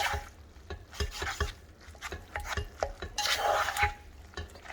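Spaghetti noodles being stirred in a stoneware dish, close and fairly quiet, with repeated scraping and clinking of a utensil against the dish at an uneven rhythm.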